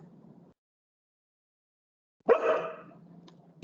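A pet dog named Elizabeth gives one sharp bark after a silent pause, fairly close and moderately loud, with faint room noise before and after.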